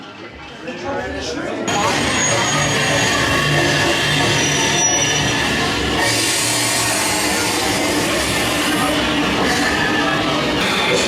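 Loud, continuous rumbling clatter of a small theme park ride train rolling along, with metallic squeals and creaks throughout.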